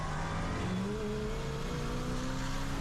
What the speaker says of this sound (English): He hit that anti-lag and gave him all the boost.